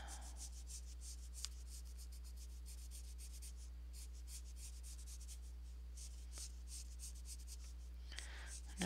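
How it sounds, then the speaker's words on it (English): Graphite pencil side shading on paper, drawing bird wings: a quiet, steady soft rubbing and scratching that keeps going, close and faint, with no talking. "I'm just using the side of the pencil"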